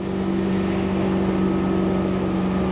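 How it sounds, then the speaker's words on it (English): A boat engine cruising at about 3,000 RPM on calm water near 25 miles an hour, a loud steady droning hum with constant tonal whine, unbroken throughout with no voices. "You can hear the sound of the engine now."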